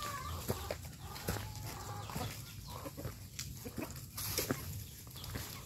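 Chickens cluck and call around a small hut on a rural hillside at Mount Mataba, San Mateo, Rizal, several birds at moderate distance. The sounds are soft, intermittent and layered over faint outdoor ambience.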